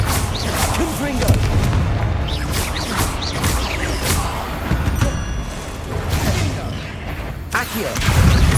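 Confringo fire spell blasts in Hogwarts Legacy, a burst of booming, thudding impacts rolling through dense game combat noise, with loud low rumbles recurring across the scene and a heavy hit near the end.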